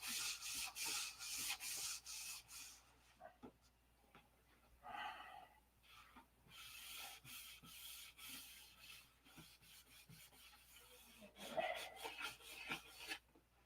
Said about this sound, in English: we got that sanded off